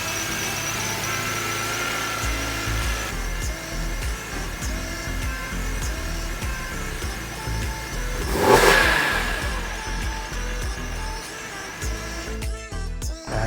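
A BMW E46 M3 engine fitted with a K&N cold air intake hums and revs steadily from inside the cabin on a test drive, swelling louder in a brief acceleration before settling back down.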